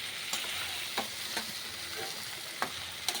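Soybean cooking in a pan with fried potatoes, a steady hissing sizzle under periodic soft scrapes and knocks from stirring, close and continuous with no speech.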